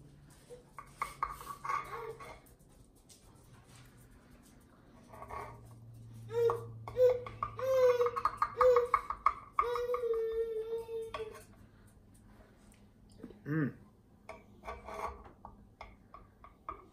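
A knife sawing through a pan of hot, crusty cornbread, scraping and rasping in short bursts with a few metallic clinks against the pan, fairly close and quiet, with no talking.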